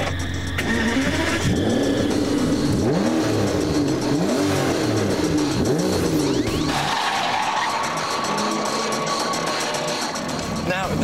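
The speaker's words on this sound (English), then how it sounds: "if the sheer sound of that V12 warming up wasn't enough to get you excited about a bit of high-speed motoring" An Aston Martin DBS V12 starts up and revs hard, a loud nearby engine flaring and rising then settling into a throbbing idle, with talk heard over it.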